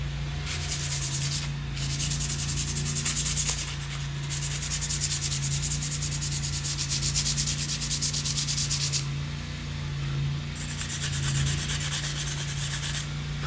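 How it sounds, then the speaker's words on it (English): Steady abrasive sanding scuffs a knife tang, a continuous raspy rubbing in long back-and-forth strokes with brief pauses, close and alone. "So I'm going to scuff up the tang a little bit"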